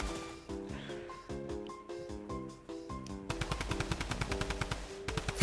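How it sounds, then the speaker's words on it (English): Rapid bursts of gunfire from the video game Fortnite, several short volleys followed by a longer fast automatic string, loud and close, with game sound effects and no talking. "Just shooting random things."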